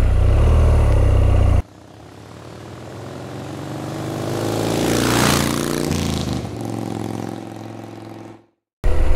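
A motorcycle rides along a road at night. A loud engine idles first, then cuts to a smoother travelling drone that swells and fades with passing wind, and it ends in a short silence before the engine returns.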